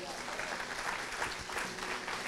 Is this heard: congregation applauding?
yes